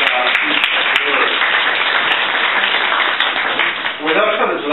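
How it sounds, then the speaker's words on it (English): Audience applause at an art presentation, a dense, steady wash of clapping from a full room that holds for several seconds, with a few voices rising through it near the end. "please give him the nice round of applause they deserve for this magnificent work"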